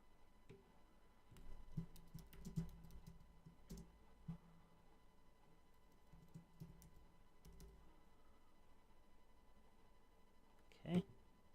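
Typing on a computer keyboard during a morning trading session, a faint run of scattered clicks and taps at close range, with a person talking quietly over the keystrokes.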